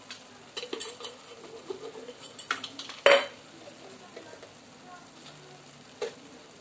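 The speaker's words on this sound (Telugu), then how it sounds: "ఇవన్నీ కొంచెం పచ్చవాసన పోయేంత వరకు మసాలా ఫ్రై చేసుకోండి" Masala of turmeric, garam masala, coriander powder and salt frying in a pan for a soya chunk curry: a soft steady sizzle with brief clinks of a stirring spoon, and one sharp louder scrape near the middle.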